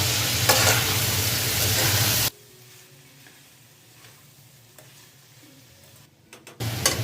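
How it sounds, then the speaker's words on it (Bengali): Small shrimp stirred into a pumpkin and bottle gourd curry in a pan, a loud stretch of scraping and sizzling that drops to quiet ticking clatter midway, then returns loudly at the end. "এখন দিয়ে একটু নেড়ে চেড়ে নিব এর সঙ্গে"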